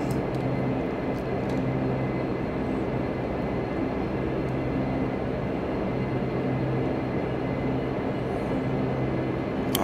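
A Q400 turboprop engine spools up during startup in a flight simulator, a steady droning hum with sustained low tones and a broad rushing whine, running continuously without pause.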